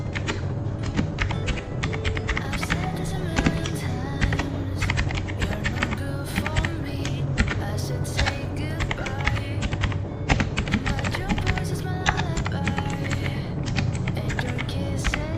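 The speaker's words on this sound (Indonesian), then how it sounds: "Pertama-tama di sini saya akan mengetik yang namanya host library atau pustakanya." Rapid, continuous clacking of a computer keyboard as program code is typed, close and dense with irregular key strikes throughout, over a steady low background hum.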